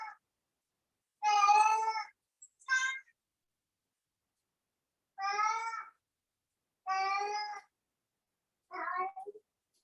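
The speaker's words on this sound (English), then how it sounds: "You need to attend to your cat alone." A cat meows five or six times, each call clear and close, spaced out by pauses of a second or more in an otherwise quiet room.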